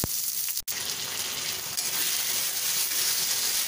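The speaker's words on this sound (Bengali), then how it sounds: "এইবার দিয়ে দিচ্ছি পেঁয়াজ কুচি।" Chopped onion dropped into hot oil already tempered with bay leaf, green cardamom and cinnamon sizzles and fries loudly and steadily, with a brief stir-like break early on and no talk.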